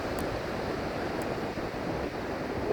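Ocean waves at Caspar Beach give a steady, broad wash of surf with some wind noise, continuous and moderately distant, with no voices.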